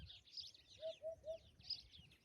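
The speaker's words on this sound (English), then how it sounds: "That's a hoopoe, called a pupa in Portuguese. It's one of our favorite birds, and that's its call." A hoopoe calls in rural Portugal, giving a soft, low three-note hoo-hoo-hoo phrase at a distance, with faint higher chirps from other birds around it.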